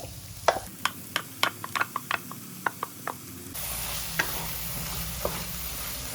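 Steady sizzling hiss of ground coconut masala paste added to a hot pan, preceded by a series of sharp clicks and knocks of a spoon against cookware.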